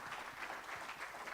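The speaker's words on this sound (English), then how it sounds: "Can we give him another round of applause," Applause from an audience at a green-economy conference in Eswatini, a steady wash of clapping at moderate, somewhat distant level with no talk over it.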